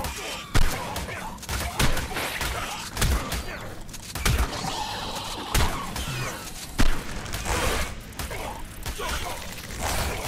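Repeated gunshots in the Ark video game on the Fjordur map, sharp irregular bursts of fire popping through a busy, cluttered mix with a person talking over the action.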